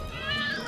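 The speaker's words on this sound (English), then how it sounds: "Hope you like cats." Short, tonal mewing from a cat or cats sits close to the microphone, with faint voices underneath.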